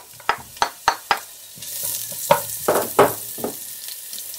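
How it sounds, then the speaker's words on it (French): Onion going into hot olive oil in a pan, with a few sharp clinks of a utensil first, then a burst of sizzling frying and stirring scrapes and knocks close by. "Maintenant je vais mettre mon oignon."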